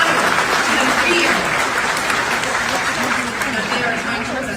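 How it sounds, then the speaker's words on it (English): An audience at a live show applauds with dense, sustained clapping that stays loud and even throughout, with faint cheering mixed in. "So I want to ask you for a round of applause for yourselves for being here"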